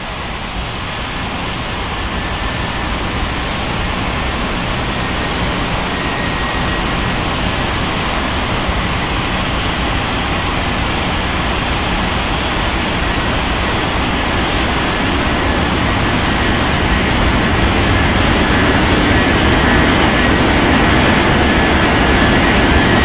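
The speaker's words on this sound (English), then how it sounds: "Five one cleared for takeoff runway 20 right." An airliner taking off from runway 20 right at Bengaluru, a continuous loud roar of jet engines that builds slowly and steadily over a long stretch, with no voices.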